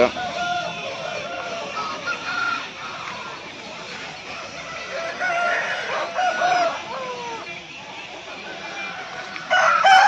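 Roosters crow repeatedly at the Pileru Sunday poultry market, several calls overlapping amid clucking hens and a busy crowd murmur in the background.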